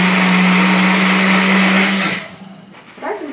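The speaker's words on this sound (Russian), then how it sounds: "Блендер у меня такой маленький, которым я, кстати, и в прошлый раз делала коктейли." A small kitchen blender whirs loudly and steadily for about two seconds, then winds down and stops, with a faint clatter afterward.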